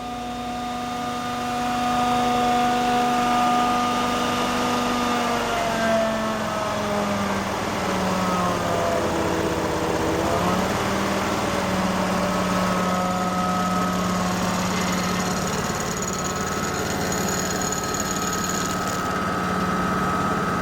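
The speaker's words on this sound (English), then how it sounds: "First, you lower your RPM to 2200." Amtex Prowler 2533 LP propane-powered engine idling steadily at a lowered 2200 RPM before shutdown, a continuous even hum with a faint pitch dip midway, running alone without talk.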